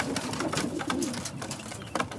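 A mated pair of racing pigeons coo softly amid rustling and light fluttering, the calls low and close with small clicks and scuffles around them.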